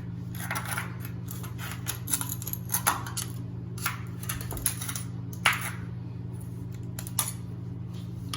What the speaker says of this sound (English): So we literally just scrape that off of there